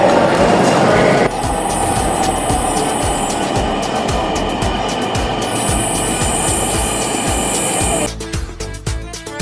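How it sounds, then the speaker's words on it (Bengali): Inside a moving passenger train, a steady loud rumble of wheels and carriage noise runs throughout, with brief high whines above and a faint voice at times. "আমরা এখন ট্রেনে আছি, ট্রেনের ভেতরে বসে আছি"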